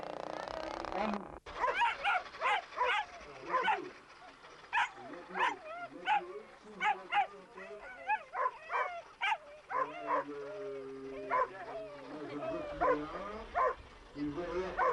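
Dogs yip, bark and whimper in quick repeated bursts during a lure coursing trial, with someone commentating over them throughout.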